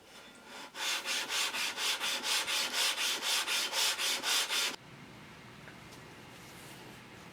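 Steady back-and-forth rasp of sandpaper on the metal faces of a Keen Kutter K4C smoothing hand plane, its blade removed, with about fifteen even strokes close up before it stops abruptly into quiet room tone.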